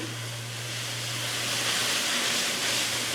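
Minced pork stir-fried dry with chili and salt in a pan over high heat, giving a steady, close sizzling hiss that holds without a break and swells slightly.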